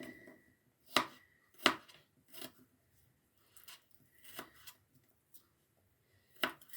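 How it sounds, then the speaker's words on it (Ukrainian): Garlic chopped with a knife into thin strips on a board: a handful of crisp, separate cuts with pauses between, close and fairly quiet, no talk. "Часник я теж буду зараз різати на такі стежечки."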